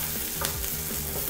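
Pita cooks in a hot frying pan with a close, continuous crackling sizzle and some soft stirring scrapes, with no voices over it.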